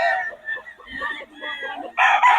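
Roosters at a gamefowl market crow close and loud, a stretched call followed by a second bird starting up, with murmuring voices in the background.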